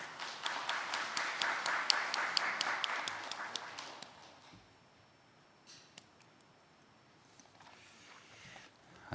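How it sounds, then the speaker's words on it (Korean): Audience clapping at a Korean fair-trade compliance symposium, a steady patter of hands for about four seconds that then fades out, leaving a quiet hall with a few faint thumps. "여러분 뜨거운 박수로 함께 환영해 주시기 바랍니다."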